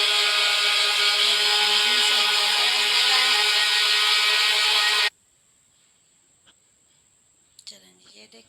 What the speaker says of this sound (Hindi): चलें जी, अब हम इसे ग्राइंड करेंगे।